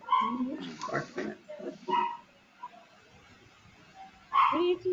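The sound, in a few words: puppy barking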